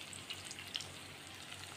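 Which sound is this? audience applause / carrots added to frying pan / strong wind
carrots added to frying pan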